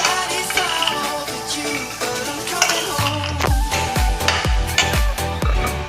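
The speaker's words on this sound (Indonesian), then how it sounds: "Kita ulek dulu. Cabenya ini sudah direbus ya, sama si bawang putih satu." A stone mortar and pestle grinds boiled chili, garlic and peanuts, with scraping at first and then a run of rhythmic thudding pounds, over background music.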